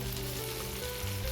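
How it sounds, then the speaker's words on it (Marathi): Fish sizzles in a frying pan, a soft, continuous crackle of hot oil with a low hum beneath, heard alone. "मच्छी फ्राय होते."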